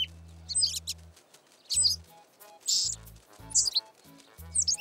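Cartoon baby bird chirps in short high bursts, about five quick clusters of tweets spaced across the moment, close and clear over a soft musical background.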